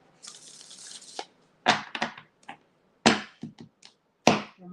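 Tarot cards are shuffled close up in a series of crisp riffling bursts, each a short papery rush followed by brief pauses, with no talking.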